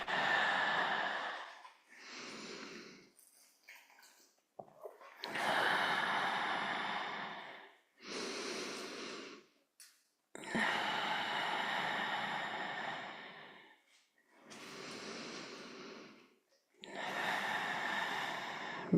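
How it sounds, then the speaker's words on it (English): Slow, deep breaths during a gentle stretching exercise, a long series of loud, close inhales and exhales with short pauses in between and no talking. "Breathing."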